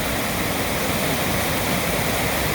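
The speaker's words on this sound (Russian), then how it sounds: "А вот и сам водопад. Обрывается вниз с определенной точки." North Carolina waterfall on the Elk River dropping about ten meters, a steady, full roar of falling water with no pauses.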